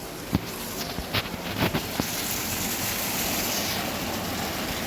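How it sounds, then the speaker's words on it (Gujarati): Steady broadband rushing of torrential rain and running water in Mahuva, with a few sharp knocks and clatters early on before the wash settles into a constant roar. "તો જો ધોધમાર વરસાદ પડ્યો છે અને પાણી ફૂલ જાય છે"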